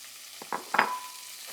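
Green onions, celery and red peppers hit a pan of hot bacon fat, giving a couple of quick soft sizzling bursts up close that fade into a faint hiss.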